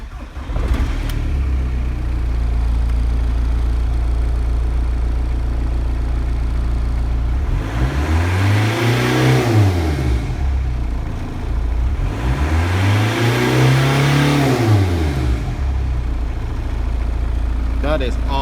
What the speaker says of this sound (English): So as you probably heard, that doesn't sound like a petrol engine because it's a diesel. It's a TDI Corrado.